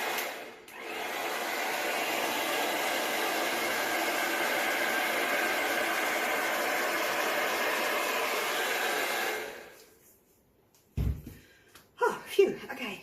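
Hair dryer blowing white acrylic paint across a 16-inch acrylic pour bloom: a steady, loud broadband rush for about nine seconds that then cuts off, followed by brief voice sounds.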